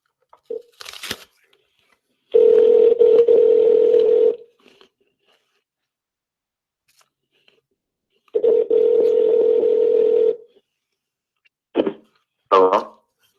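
Dial tone and dialing on a live radio call-in phone line: two long steady tones, each a few seconds, separated by silence, followed by brief tone bursts and clicks near the end.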